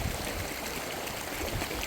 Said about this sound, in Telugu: ఎదురుగా వస్తుంది చూడండి సహస్రధార వాటర్ ఫాల్స్